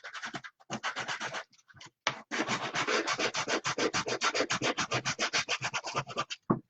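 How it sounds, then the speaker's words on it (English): Hand sanding of a prop, likely wood, with abrasive paper rubbing back and forth in steady, rhythmic strokes, close and fairly loud, pausing briefly before a long unbroken run. "I'm going to sand the heck out of this thing until It is perfect."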